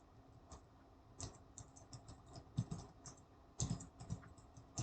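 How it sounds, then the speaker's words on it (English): Keys clatter on a computer keyboard during design work, quiet and close, in short irregular bursts with brief pauses between clusters of taps. "we're going to go to the text and we're going to type in"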